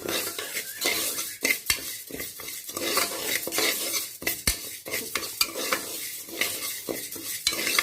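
Moong dal dry-roasting in a pressure cooker, stirred briskly, makes a close, busy run of metal scrapes and clinks over a light sizzle, with no voices.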